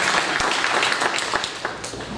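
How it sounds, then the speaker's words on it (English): Applause from an audience at a political campaign rally, a steady dense wash of clapping sustained throughout with scattered sharper claps standing out. "Let's give her a round of applause."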